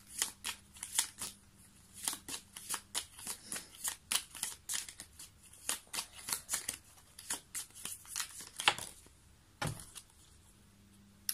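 Cards are shuffled for a card reading: a long series of soft, crisp riffling bursts in an uneven rhythm, close and fairly quiet, with a couple of heavier thumps near the end.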